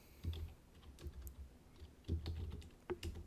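Keys on a computer keyboard are typed in short, quiet bursts of clicks, with a few louder taps spaced between brief pauses, close and alone.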